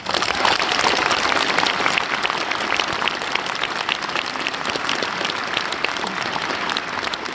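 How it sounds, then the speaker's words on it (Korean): A large audience claps in dense, steady applause for the Marine Corps at a political talk show, the sound sustained and evenly loud throughout with no talking over it. "그들을 위해서 박수 한번 부탁드립니다"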